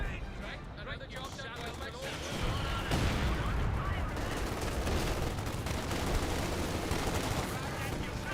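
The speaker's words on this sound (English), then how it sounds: "Assault section here getting hit by the MG42." MG42 machine gun fire in the World War II strategy game Company of Heroes 2, sustained bursts and battle noise that grow denser partway through, with a commentator talking over the action throughout.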